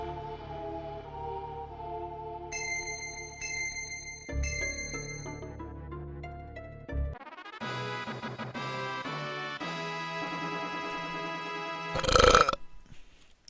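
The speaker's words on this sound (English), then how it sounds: "There's celebratory burp." A celebratory burp sound effect in the Final Fantasy V video game, a short loud belch near the end, after a stretch of layered chiptune-style game music with no talk.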